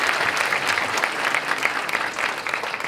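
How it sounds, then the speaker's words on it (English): An audience at an award ceremony applauds, a dense and steady wash of many hands clapping for about three seconds with no voices on top. "Clap yourselves."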